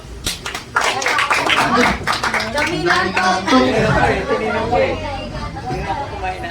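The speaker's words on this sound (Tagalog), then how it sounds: "Pumalakpak!" A church congregation at a revival sermon claps together in a brisk burst of applause, then voices and murmuring chatter take over as the clapping fades.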